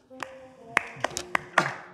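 A few scattered hand claps in an office farewell scene, sparse and uneven, about six sharp claps over quiet background.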